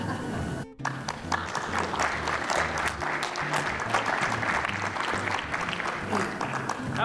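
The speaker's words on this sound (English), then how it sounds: "How about a big round of applause for Kevin again?" Convention audience applause at a 2018 AQHA industries town hall meeting, a brief dropout and then a full, sustained burst of crowd clapping, fairly loud and even throughout, with voices mixed in.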